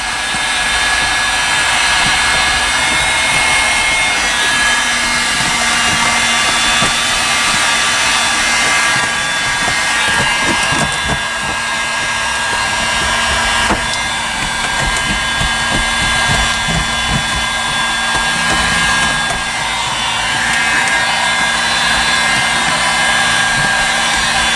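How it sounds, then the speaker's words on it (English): Heat gun blowing steadily on car sound deadener, a loud, close, continuous whooshing hum held for the whole stretch, with faint handling knocks underneath. "I got a heat gun"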